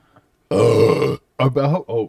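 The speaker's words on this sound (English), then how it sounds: "I didn't just burp. That was you." A single loud, drawn-out burp close by, followed by a short burst of voices talking.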